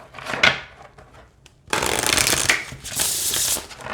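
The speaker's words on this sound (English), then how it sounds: "let's see how they shuffle this way" Witches' Familiars tarot cards being shuffled: a quiet riffle and a few soft taps, then a long, loud, dense burst of flicking and rustling card edges, close and with no talking.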